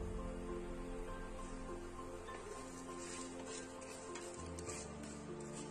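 Whole spices, including black pepper, dried red chillies, cumin and coriander seeds, dry roast in a nonstick pan with a soft, continuous rustle and faint scraping as they are stirred, low and steady throughout.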